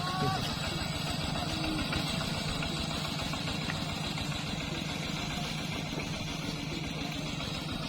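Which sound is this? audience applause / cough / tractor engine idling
tractor engine idling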